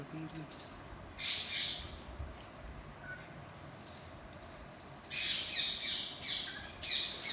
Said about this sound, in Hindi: आप सुने इस चहचहाट को।